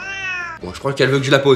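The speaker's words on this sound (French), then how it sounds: "C'est un chat qui parle beaucoup trop et qui a une voix d'ailleurs très portante." A talkative cat with a loud, carrying voice gives a long drawn-out meow right up close, then someone speaks French over further mewling sounds from the cat.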